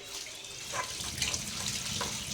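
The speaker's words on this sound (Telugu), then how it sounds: "ఇవన్నీ మళ్ళీ జాలీలు వేసుకొని మంచిగా ఇలా కడగాలి" Running water pours steadily over small fish in a strainer, a soft continuous splashing with faint drips and handling noises, close and fairly quiet, with no voices.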